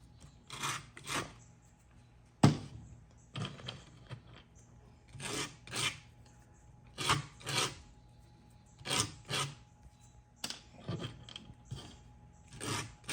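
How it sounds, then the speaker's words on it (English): Freshly cut 1/8 inch rods for a 1/6 scale Sdkfz7 model kit are sanded by hand in a series of short, close rasping strokes separated by brief pauses, with one sharper knock partway through. "I'm just going to take them and sand them down just like this"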